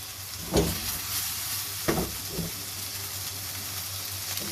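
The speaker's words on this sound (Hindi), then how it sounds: "बहुत हल्के हाथ से आपने चावलों को मिक्स करना है, क्योंकि ये भीगे हुए हैं और ये टूट सकते हैं।" Soaked turmeric-coloured rice for potato pulao is gently stirred in a hot pan, giving a soft continuous sizzle with a few brief scraping strokes of the spoon.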